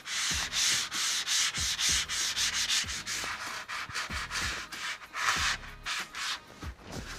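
Hand sanding across a surface before priming, with light pressure and no speech: close, rhythmic scratchy strokes, each a short rasping burst, repeating quickly and unevenly throughout.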